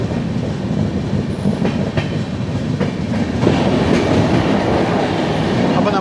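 Venad Express passenger train running at about 80 km/h, heard from inside a coach four or five cars back: a steady, loud rumble of wheels and running gear with faint clickety-clack beats, rising slightly midway and continuing without talk.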